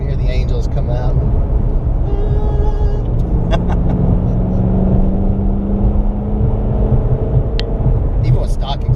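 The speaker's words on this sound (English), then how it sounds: "That blower whine just comes in" A Ford Mustang GT500 with a supercharger, rumbling steadily and loudly from inside the cabin with a rising whine, while people talk over it throughout.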